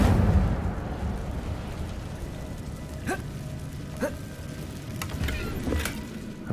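Incendio fire spell in a Harry Potter video game: a roaring burst of flame that fades into crackling, with several sharp pops later.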